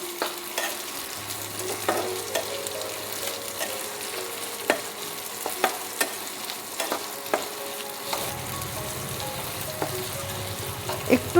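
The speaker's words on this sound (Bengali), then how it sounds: "পেঁয়াজ আর রসুনটাকে আমি হালকা নাড়াচাড়া করে নেবো একটু।" Onion and garlic sizzle steadily in a pan while a spoon stirs them, with small scraping taps and clicks over a constant frying hiss.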